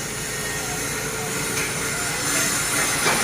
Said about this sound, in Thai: ทางด้านขวามือตอนนี้เป็นขบวนรถพิเศษสินค้านะที่ 986นะครับ มาถึงราชบุรี 15นาฬิกา3นาทีนะ